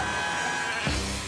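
A sheep bleats once, briefly, from a flock being herded near busy roads, over a steady noisy background.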